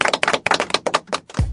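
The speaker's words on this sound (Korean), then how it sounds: "요 시점에서 박수 좀 게스트 여러분" Guests on a Korean talk show clap together in a short, loud burst of sharp, quick hand claps that stop within a second or two.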